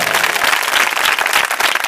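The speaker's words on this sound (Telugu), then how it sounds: "చప్పట్లు కొట్టి యేసుని కనపరచండి గట్టిగా." A church congregation claps hands loudly and continuously, a dense, close roar of many overlapping claps with no pauses.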